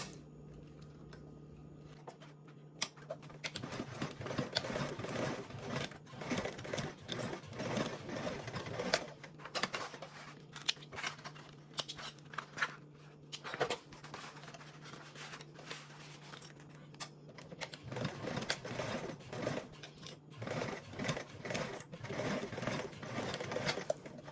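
A sewing machine stitches seams with a 3/8 seam allowance, its needle running in long rapid bursts separated by short pauses, close and steady with no talking.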